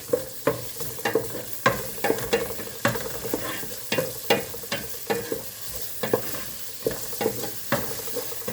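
Sautéing at the start of a mung bean soup, a continuous sizzle broken by rhythmic clanks and scrapes of a utensil stirring in the pan, close up.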